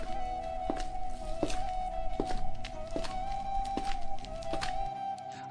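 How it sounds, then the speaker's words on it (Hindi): Footsteps of a person walking out of an office cabin's washroom: a steady, evenly paced series of soft thuds, close by, over a constant electrical hum. "केबिन के वॉशरूम से निकलने किसी की आहट सुनाई दी"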